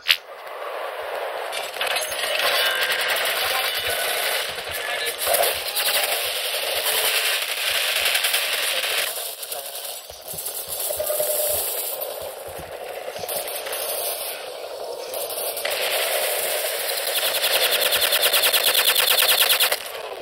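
Sustained rapid gunfire from a Tom Clancy's Ghost Recon match as enemies try to snipe, a dense continuous crackle of shots with sharp bursts, running loud throughout with no voices.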